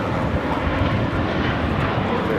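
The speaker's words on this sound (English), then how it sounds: "This is JetBlue, Flight 100, taking off to Fort Lauderdale on an A321." A JetBlue Airbus A321 jet taking off from Los Angeles airport, bound for Fort Lauderdale, producing a steady, loud, broadband engine roar throughout.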